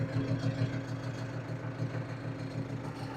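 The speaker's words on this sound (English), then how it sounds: "I'm gonna go get my tractor" A farm tractor engine idles steadily with a low, rhythmic throb, running alone at moderate distance.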